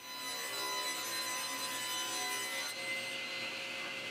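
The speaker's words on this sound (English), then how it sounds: "And then again to length over at the miter saw." A miter saw cuts wooden boards to length in a woodworking shop: a loud, steady, bright whine of the spinning blade through wood, running the whole time and easing slightly near the end, with no talking.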